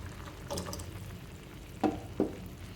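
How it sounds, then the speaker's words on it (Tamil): Tamarind water tipped into a simmering cowpea curry on the stove, a soft bubbling sizzle with two short splashing pours near the end, close and moderately quiet. "இப்போ புளி தண்ணியை அதில் சேர்த்துடலாம்"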